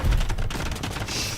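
Hand cannoneers firing volleys in Age of Empires during a match against a wall, a quick burst of overlapping gunshot cracks over a dense battle din.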